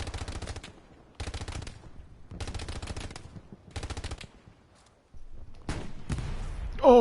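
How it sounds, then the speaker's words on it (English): Bursts of gunfire from the Hell Let Loose battlefield, four rapid rattling volleys in quick succession, then a pause and a louder, denser burst near the end. "someone almost sniped my head as I popped up for a second"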